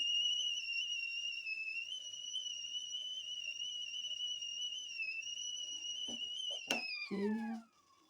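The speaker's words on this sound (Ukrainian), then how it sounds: "Ось звук свистка." A 2.7-litre Resto Lyra stovetop kettle whistles with a steady, shrill two-tone note for several seconds, then a few clicks and clatters as it falls silent.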